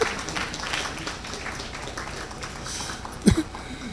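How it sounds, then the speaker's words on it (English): Scattered audience clapping at the NMIMR annual research meeting, a soft diffuse patter of hands in a large room, with a brief sharper knock near the end. "can you clap for her"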